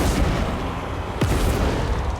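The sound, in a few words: cannons firing in the video game Total War Warhammer 3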